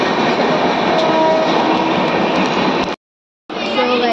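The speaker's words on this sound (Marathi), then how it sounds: "सो आपण भेटूया ट्रेन आली" A train pulls into Diva station with a steady, loud rumble of wheels and carriages that holds throughout, broken by one short silent gap near the end before the rolling noise resumes.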